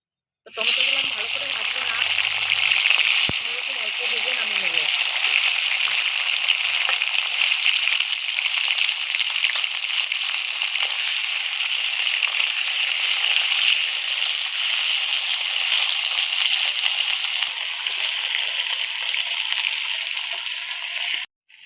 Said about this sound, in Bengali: ওই একই তেলে আমি এবার টমেটোগুলোও ভেজে নেবো